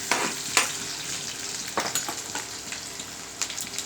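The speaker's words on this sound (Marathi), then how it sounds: "जिरं गोल्डन झालेलं आहे आता आपण यात लसण लसण बारीक कट करून घेतला आहे" Finely chopped garlic sizzles in hot oil with golden cumin seeds during a tempering for a fenugreek curry, a continuous close frying hiss with a few sharp crackles and stirring scrapes.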